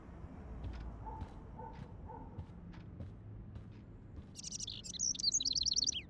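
A bird in the video game Life Is Strange bursts into a run of loud, rapid, high chirps near the end, following quieter game noises and soft knocks in an otherwise still room.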